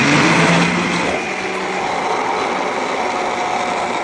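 A kitchen blender runs continuously, blending homemade lunch food into a smooth purée for gastrostomy tube feeding, with a steady, loud whirring motor and no talking.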